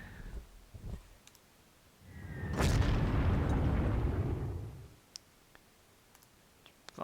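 Artillery bombardment in the Panzer Corps strategy game: a single heavy boom rolls into a long, low rumble lasting a couple of seconds before fading, with a few sharp interface clicks before and after.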